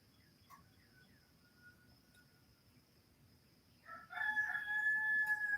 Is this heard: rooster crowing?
yes